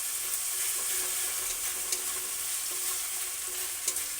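Ginger, garlic and ground spices fry in a pan for jackfruit cutlets, giving a soft continuous sizzle with light stirring scrapes close by, no voices.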